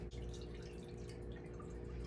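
Milk pours steadily into a bowl for a no-cook banana pudding, a soft continuous liquid trickle with faint dripping, heard alone at low volume.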